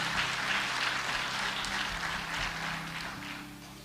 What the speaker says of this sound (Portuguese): Então aplauda Jesus com alegria.